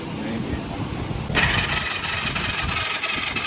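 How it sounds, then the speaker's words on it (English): A Yamaha YFZ450 four-stroke engine is cranked over with its spark plug removed, producing a steady, dense mechanical whirring that steps up louder partway through and keeps churning evenly, with voices in the background. "We're gonna crank the motor a couple times with the plug out"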